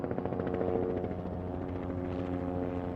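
The Mayo 1 medical helicopter flies overhead with a steady droning hum and a rhythmic rotor thump, strongest at first and then holding as a continuous engine tone.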